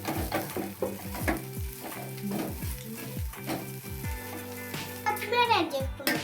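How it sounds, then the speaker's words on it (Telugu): Egg fried rice sizzles loudly in a pan while a spatula stirs and scrapes it in repeated strokes, with a voice talking over the cooking. "బాగా కలుపుకుందాం."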